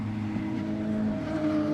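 Radical SR3 race cars battling on track at Snetterton, engines droning steadily with harmonic whine under commentary throughout.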